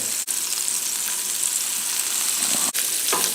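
Spam sizzles and chars steadily in a hot pan for a Spam and salsa omelette, a continuous close crackle with two brief gaps and a few faint clinks near the end.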